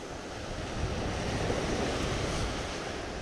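Ocean surf washes over a beach at a rip current where someone is surf fishing with live shrimp, heard as a steady broadband roar mixed with wind buffeting the microphone, constant and fairly loud throughout.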